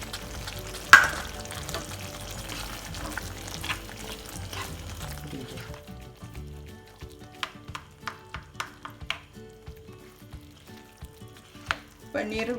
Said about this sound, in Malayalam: പനീർ കൂടെ ഇതിൽ കിടന്ന് ഒന്ന് കുക്കാവണം